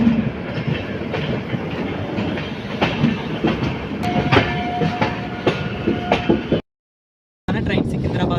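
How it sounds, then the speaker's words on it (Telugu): The Bhavnagar-Kakinada Port superfast express runs on rails after leaving Secunderabad, a steady loud rumble with rhythmic wheel clatter heard from aboard. A short silent gap falls near the end. "ట్రైన్ సికింద్రాబాద్ నుంచి 9:26 బయలుదేరింది."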